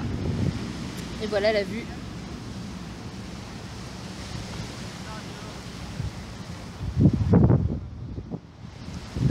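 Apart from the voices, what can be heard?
wind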